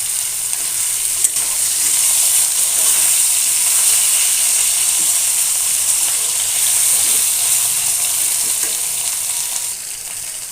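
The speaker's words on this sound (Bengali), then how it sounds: "এই তেলেই আমি এখন কাঁচা কলাগুলো দিয়ে দিচ্ছি। কাঁচা কলাটা ভেজে নিব।" Raw green bananas frying in hot oil left over from frying rohu fish, a loud, bright, steady sizzle and hiss heard close up, continuous with faint stirring sounds.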